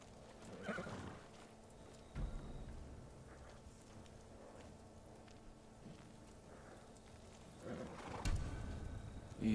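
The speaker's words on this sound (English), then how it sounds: "They're samurai horses." A horse whinnies and neighs in Ghost of Tsushima, a samurai steed in a stable setting, with a couple of louder calls among soft hoof clops and ambient game sound, no talk.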